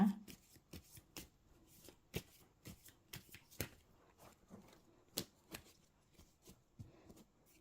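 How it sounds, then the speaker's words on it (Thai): Tarot cards being shuffled and cut by hand, a run of crisp riffling snaps and soft slaps in an irregular rhythm, close and clear with no talking. "ขอเป็นตัวแทนสับไพ่ตัดไพ่คนเกิดวันพฤหัสนะคะ"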